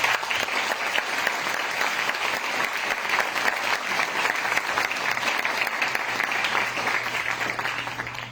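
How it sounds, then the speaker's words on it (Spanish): An audience applauds a chemical engineer introduced as guest speaker at a talk on hydrogen energy in Mexico; steady, dense clapping fills the room at an even level for the whole stretch, with no voices over it. "Un aplauso, por favor."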